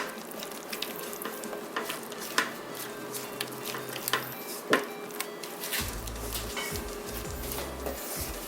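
Soft scraping and tapping of a utensil stirring scrambled eggs with crème fraîche in a pan, with faint sizzling and occasional clinks against the metal, close by.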